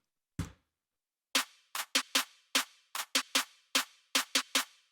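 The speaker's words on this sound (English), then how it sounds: "Here's the snare roll, just an EQ on it." An EQ'd snare roll from a future bass track, the highs and lows dipped: one early hit, a pause, then a run of crisp, evenly spaced snare strikes, dry and clear with no other sound.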